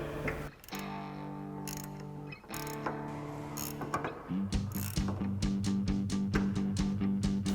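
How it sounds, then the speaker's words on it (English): An 18mm ratchet wrench tightens a new flange nut onto the sway bar of a 2005-2009 Mustang GT front strut assembly. A steady tonal hum gives way to a close run of rapid, evenly spaced ratchet clicks in the second half. "grab our 18mm ratchet wrench and tighten that down"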